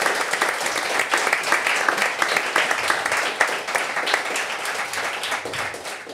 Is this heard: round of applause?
yes